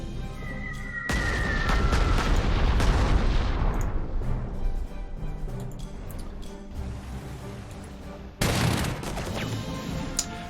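Bombing attack explosions in the WWII strategy game Panzer Corps 2, set in Yugoslavia in 1941: a broad booming blast at one second rolls on as a long rumbling roar, then a second sharp burst near eight and a half seconds.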